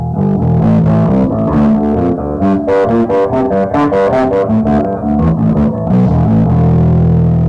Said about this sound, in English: I also add one of my favorite guitar pedals to play with a bass is the JHS Octave Reverb.